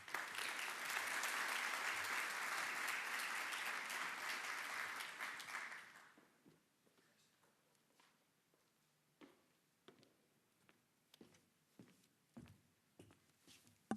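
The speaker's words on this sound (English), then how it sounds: "How about another round of applause to our Assistant Commissioner of Health, Chr" Audience applause at a ribbon cutting celebration for an agile strategies lab, a loud sustained crowd clapping for about six seconds that then fades into a quiet room with scattered footsteps and small knocks.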